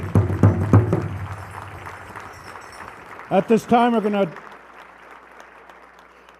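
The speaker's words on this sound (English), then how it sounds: "Let's give him a round of applause." Audience applause for a Vietnam War veteran at a Madison gathering, a loud burst of clapping at the start that fades out, followed by someone speaking over a quieter background.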